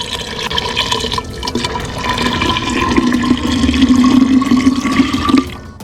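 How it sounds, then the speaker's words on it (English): Lukewarm water, about a liter, is poured over garlic, a close continuous splashing pour that grows fuller and louder before stopping abruptly. "Pour about 1 quart, approximately 1 liter, of lukewarm water over it."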